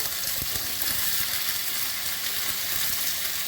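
Malabar spinach fritters (puin muchuri) frying in hot oil alongside eggplant slices, a steady bright sizzle with occasional soft pops and scraping stirs, fairly quiet and close.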